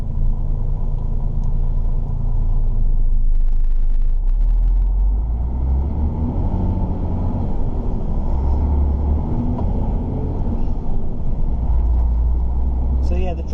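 A sugar beet haulage truck drives along a road with a steady low engine rumble and road noise throughout, loud and close, with some speech underneath.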